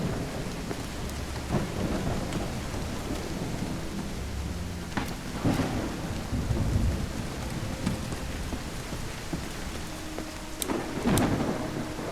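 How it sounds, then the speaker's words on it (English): Steady heavy rain pours throughout in the video game Call of the Elder Gods, with several sharp rumbles of thunder breaking through at intervals. "It's raining cats and dogs here."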